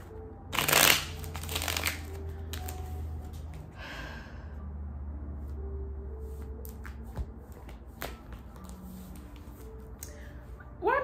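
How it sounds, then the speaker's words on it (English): Tarot cards being shuffled close by in repeated riffling bursts, the loudest near the start, with quieter handling and faint breathy sounds in between. "I'm shuffling the shit out of these cards."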